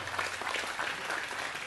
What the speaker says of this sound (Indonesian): Nah, tepuk tangan, tepuk tangan.